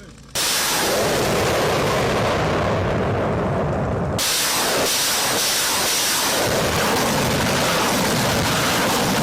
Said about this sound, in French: L'artillerie est mise à contribution et la base est détruite depuis des kilomètres.